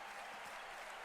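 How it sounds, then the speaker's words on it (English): A crowd cheering and applauding at a circus show, a dense continuous wash of clapping with no breaks, faint and distant. "the crowd gives one last loud hurrah as y'all all walk up"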